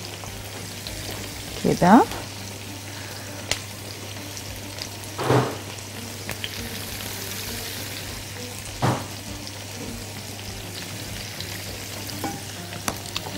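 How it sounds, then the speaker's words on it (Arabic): Chicken pieces frying in plenty of oil give a steady, soft sizzle throughout, with a few louder stirring clatters at intervals and a brief spoken word. "طالما الزيت غزير بتستوي الفراخ اصلا"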